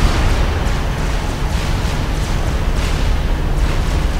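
Continuous rumbling barrage of artillery fire from entrenched units in the strategy game Supreme Commander: Forged Alliance, loud and dense with overlapping booms and no clear pauses.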